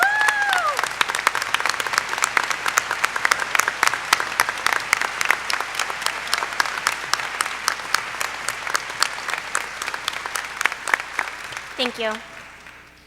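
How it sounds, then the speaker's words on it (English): A large graduation crowd gives teachers sustained applause, dense, steady clapping that gradually thins toward the end, with a brief spoken thanks near the close. "give them a big round of applause"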